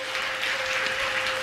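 Applause from an audience welcoming a revered guest at a religious discourse gathering, a steady dense clapping wash throughout with a faint constant tone beneath.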